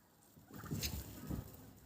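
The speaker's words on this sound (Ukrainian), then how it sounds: "Індик, дивіться." An adult domestic turkey gobbles at close range, with a few throaty bursts in quick succession and brief pauses between them.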